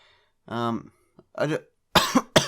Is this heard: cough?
yes